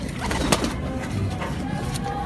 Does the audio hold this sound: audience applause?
no